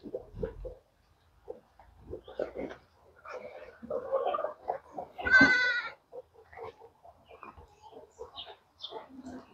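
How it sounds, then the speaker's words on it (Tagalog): Several goats bleating at a farm in rainy weather, with distinct calls near and moderately loud, one especially strong bleat midway, alongside intermittent talking. "Ito na po yung ating mga kambing guys"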